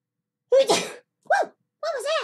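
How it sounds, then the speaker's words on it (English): A sneeze in three voiced bursts: a rising build-up, a short sharp catch, then a drawn-out final blast, loud and close with silence between. "I sneezed."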